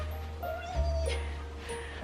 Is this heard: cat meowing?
yes